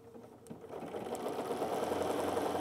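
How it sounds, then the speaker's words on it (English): A sewing machine runs steadily, its rapid mechanical stitching rattle building slightly and holding an even rhythm, close and fairly loud. "So I'm at my sewing machine"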